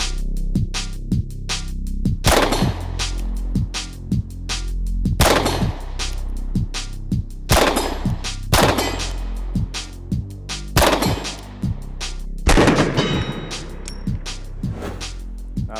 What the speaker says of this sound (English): I've never shot this pistol before. Don't know what it's gonna do